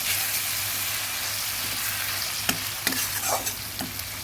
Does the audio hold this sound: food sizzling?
yes